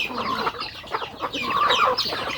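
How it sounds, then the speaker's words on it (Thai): Chickens on a Thai family farm cluck and chatter steadily at close range while being fed, a dense overlapping flock sound with no voices. "มาเลี้ยงไก่กันนะ"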